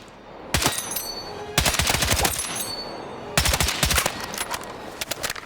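TR-7 (Tavor 7) rifle fire in the video game Battlefield 6, a close-range engagement with a 20-round magazine: three loud bursts of rapid automatic shots, each about a second long, separated by short gaps, with no talking.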